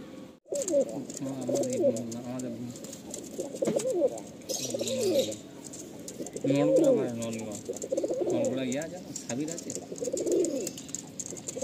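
Madrasi Andhra pigeons coo repeatedly in low, throaty rolling calls, close by, with overlapping bursts and some faint background chatter.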